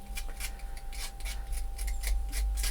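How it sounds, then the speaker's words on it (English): Scissors snip carefully along the edges of paper for a steampunk lap book, a steady run of crisp, close cuts in a quiet room with no talking. "And I'm going to just use my scissors carefully."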